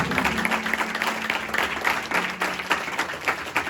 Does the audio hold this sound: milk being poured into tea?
no